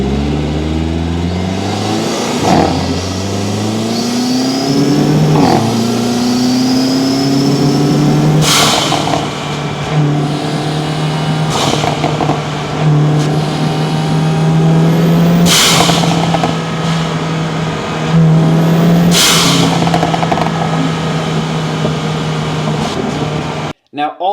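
A Hyundai Elantra N with an AV6 blow-off valve, CPLT V2 intake and resonator deleted revs up through the gears, loud and close. Each shift is marked by a sharp whoosh of released air.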